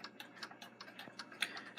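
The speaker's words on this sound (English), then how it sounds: "Today we're going to look at the Waterbury Westminster chime clock." A Waterbury triple-decker Westminster chime clock ticking in a steady, quick rhythm, quiet and close, with one slightly sharper metallic tick and no voices.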